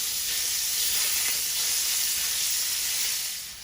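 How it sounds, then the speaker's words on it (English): Chorizo frying in vegetable oil over medium heat gives off a steady, dense sizzle and hiss that holds level throughout, then eases slightly at the end, with no voices. "I'm going to let the chorizo cook for 15 minutes"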